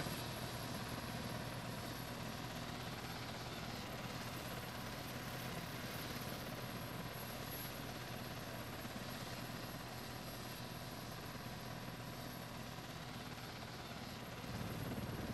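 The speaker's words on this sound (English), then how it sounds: "Goodbye, helicopter. I send it away." A helicopter in the Arma video game, a loud continuous rotor and engine drone that holds close and steady throughout without any speech.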